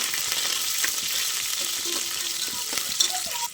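Green chillies frying in a pan, a steady, close broadband sizzle with faint stirring clinks throughout, no voices.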